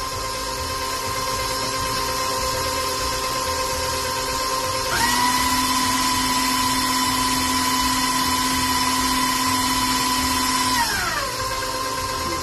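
An electric hand mixer beats milk into Greek Easter cookie dough with a steady, close motor whine that rises to a higher speed midway, holds there for several seconds, then drops back down.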